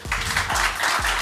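Audience applause for players at the close of a quiz-show match, steady broadband clapping filling the whole moment with rhythmic swells, no voices over it.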